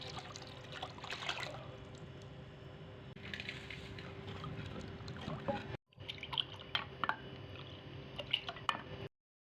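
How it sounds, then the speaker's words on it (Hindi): Half a kilo of milk poured into a pot while making sardai, a thandai-style almond drink, a close, continuous liquid splashing and gurgling that stops briefly, resumes, then cuts off. "ये आधा किलो दूध डालेंगे।"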